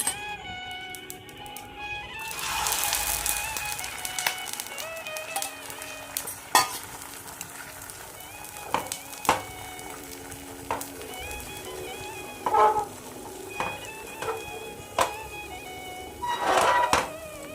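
An omelette fries in a pan with a steady soft sizzle, punctuated by occasional clinks and scrapes of a utensil against the pan, fairly quiet with no talking.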